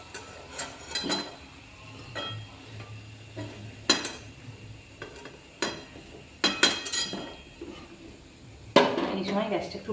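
Gaja sweets frying in hot oil in a pan give a soft continuous sizzle, broken by sharp clinks and scrapes as a utensil stirs and lifts pieces against the pan.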